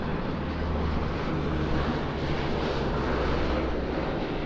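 An aircraft making a low pass at an airshow in Leszno, a steady broad engine roar with a low rumble that swells slightly midway, heard outdoors without speech.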